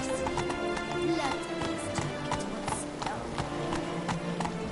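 A horse gallops in a PS4 game with rapid, sharp hoofbeats in a steady driving rhythm, layered over game music and background sound.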